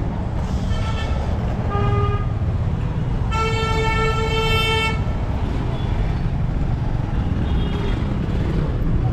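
Busy road traffic on Manali Mall Road: engines and buses rumble steadily while several car and bus horns toot in short bursts, one long blast in the middle, with faint voices in the background.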